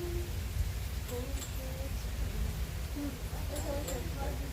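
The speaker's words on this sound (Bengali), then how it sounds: "বৃষ্টির মাত্রা অনেক বেড়ে যাচ্ছে" Heavy rain pours steadily outdoors as a dense, even hiss that does not let up, with faint voices and a few thin tones in the background.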